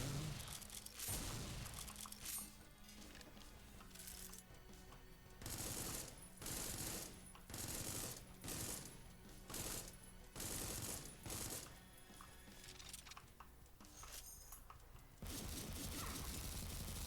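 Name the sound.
gunfire from many guns in a video game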